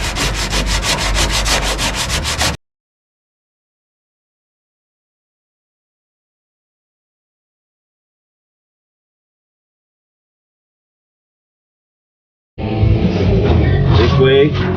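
Sandpaper is rubbed by hand over car body work, in grits from 40 up to 600, with a close, raspy back-and-forth scrubbing. A short burst is followed by about ten seconds of silence, then another loud stretch of sanding.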